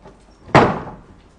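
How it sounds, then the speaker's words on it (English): A toilet door being opened during an investigation, a single sharp thud with a short decaying rumble, loud and close, with faint room noise before and after. "open the door and go inside?"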